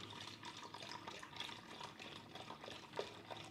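A liter of whole cream is poured into a Thermocook Pro M 3.0 kitchen machine fitted with a butterfly whisk, producing a soft, steady liquid gurgle and splash that is close but quiet, with no talking.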